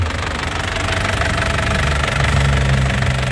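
Engine of a 2012 LV turbo running steadily at idle with a rough, knocking rumble, close and continuous without talk.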